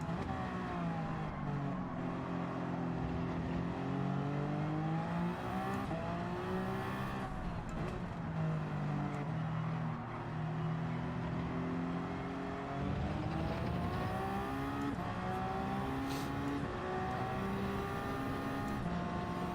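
Race car engine in Gran Turismo 7 at Fuji, a continuous loud drone rising and falling through gear changes and revs with no break, heard alone without talk.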